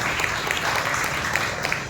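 Congregation clapping hands together during a church worship service, a dense, steady wash of applause from many people at close range, lasting the whole moment without pause.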